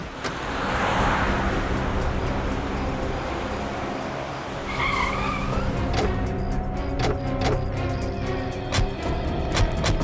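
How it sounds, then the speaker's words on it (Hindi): A car on a road brakes to a stop with a brief squeal of tires, then its engine hums as it backs up, steady traffic-like rumble throughout without speech. "जरा गाड़ी रोको"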